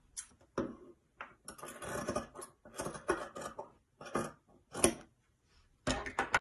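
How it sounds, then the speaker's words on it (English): Scissors snip through fabric along the back neckline of a top, a run of crisp, close cutting bursts separated by short pauses, fairly quiet with no talking. "So first you cut the back neckline."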